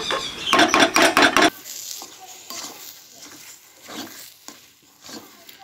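A spoon stirs meat curry being fried in a pan, a burst of loud scraping strokes at first, then quieter intermittent stirring over a soft sizzle.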